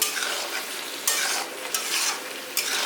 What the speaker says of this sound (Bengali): এরপরে আমি ভালো করে একে কষিয়ে নেব